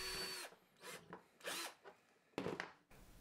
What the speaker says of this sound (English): I decided to drill a smaller hole underneath the middle hole